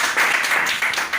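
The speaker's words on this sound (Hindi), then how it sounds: "एक बार जोरदार तालियां उनके लिए बता दीजिए" A short, loud burst of audience applause for a poet at an Independence Day poetry recital, dense clapping that runs without a break.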